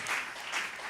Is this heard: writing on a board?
no